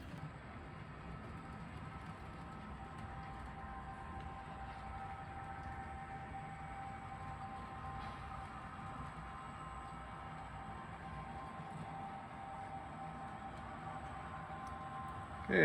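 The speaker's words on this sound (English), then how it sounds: "so you can see the train going on there" An HO scale model train runs on a BC Rail layout, coming out of a helix, giving a faint, steady rolling rumble with a light hum that continues evenly throughout.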